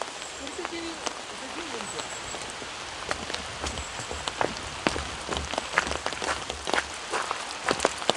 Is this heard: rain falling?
yes